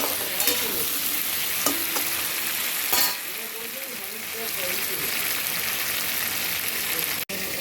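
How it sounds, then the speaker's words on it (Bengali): Potato and green banana slices frying in oil previously used for fish, a continuous close sizzle with occasional stirring scrapes and clinks, while a voice talks over it. "মাছ ভাজা তেলেই ভাজছি।"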